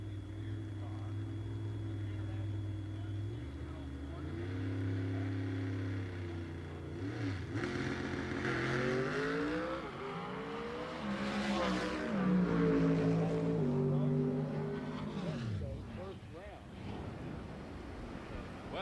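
Drag racing car making an easy pass at the 1996 NHRA Southern Nationals, heard from a distance with a rising then falling engine roar that cuts off early, under crowd and broadcast ambience.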